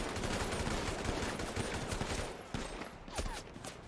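Rapid gunfire crackles through a video game shootout at a jewelry store, with sniper shots amid dense overlapping bursts. It is loud and continuous at first and thins into scattered shots.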